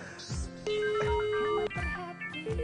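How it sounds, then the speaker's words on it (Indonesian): A mobile phone rings in a short melodic tone pattern, the notes sounding clearly and fairly close for a few seconds with no voices over them. "Itu suara HP lu yang bunyi?"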